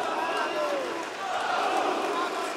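An arena crowd at an OKTAGON MMA fight roars in a broad, sustained wash of cheering and shouting, with commentary voices talking over it.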